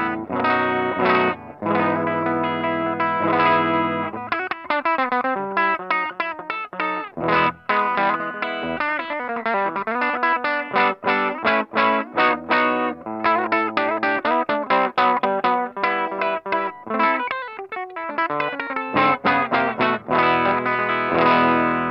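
Electric guitar with a standard humbucker pickup played through a Kustom Defender 5H amp at low volume: continuous chords and single-note lines with a light crunchy edge, steady and up close with no talking.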